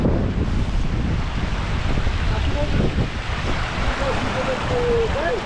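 Glymur waterfall in Iceland roars as a steady broadband rush of falling water, heavy with wind buffeting the microphone, and a few faint chirping tones toward the end.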